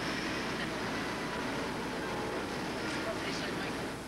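A tram rumbles and rattles along its rails in a steady, continuous ride, with faint murmuring voices mixed into the clatter.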